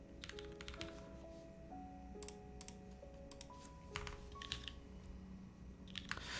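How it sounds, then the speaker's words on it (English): A custom mechanical keyboard typed on in quick, uneven bursts of crisp clacks, heard quietly over a sustained background tone. "Making custom keyboards sound yummy."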